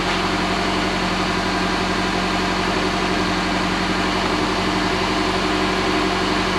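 A Classic Mini Clubman Estate engine runs, a loud, continuous rumbling idle with steady low vibration throughout and no talking.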